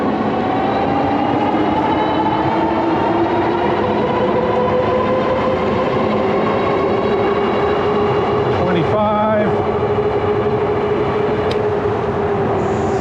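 Tomofree x YYG BR100 moped-style e-bike hub motor accelerating on throttle at power level 4, a loud, steady electric whine rising gradually in pitch over wind rush, with a brief murmur of talk near the end.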